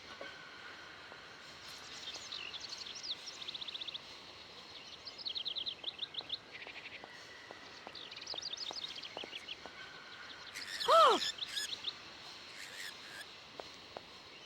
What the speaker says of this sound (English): Oh, and here are the cuckoos.